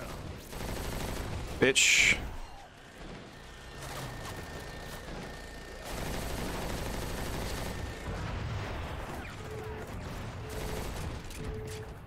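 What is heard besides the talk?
gunfire in the video game Crackdown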